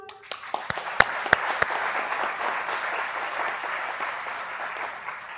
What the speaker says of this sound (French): Et encore un tonnerre d'applaudissements